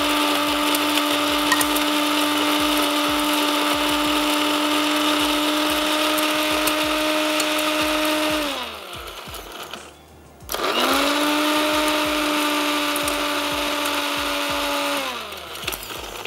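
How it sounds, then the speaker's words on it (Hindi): Electric grinder whirring loud and steady as it pulverizes masala spices: Kashmiri red chili powder, fennel, cumin and coriander, motor cutting off briefly midway before spinning up again for a second long run, no voices. "मसाला हमने ब्रेक में भी मैंने नहीं पीसा, तो चलें अब पीस लेते हैं।"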